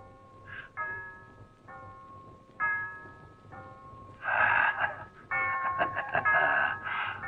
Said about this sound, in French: ding dong, ding dong.